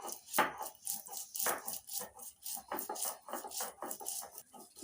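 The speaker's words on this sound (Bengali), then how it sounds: "মশলাটা আমি শিলনোড়ায় বেটে নিচ্ছি" Green chillies and garlic being ground with a little water into a spice paste on a stone grinding slab (shil-nora), a steady rhythmic scraping and rubbing of stone on stone, close and continuous with repeated back-and-forth strokes.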